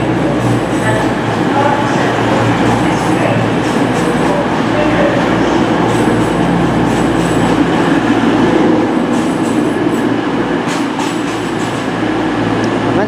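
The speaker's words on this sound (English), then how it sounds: "next up to pull out is a 1505. East Midlands Trains Class 222 Meridian service to St Pancras International" An East Midlands Trains Class 222 Meridian diesel unit pulls out of Nottingham station, a loud continuous engine rumble and rolling rail noise with faint wheel clatter, steady throughout.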